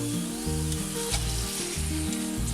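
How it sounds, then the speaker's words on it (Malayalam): Okra chips deep frying in hot oil while being stirred, giving a steady, close, loud sizzle with bubbling and a low rhythmic churning pulse throughout, no voices. "ഇതിപ്പോൾ നമുക്ക് ഇളക്കുമ്പോൾ ഒരിങ്ങനെ കിളിങ്ങുന്ന പോലെ ഒരു സൗണ്ട് ആയിട്ടുണ്ട് കേട്ടോ"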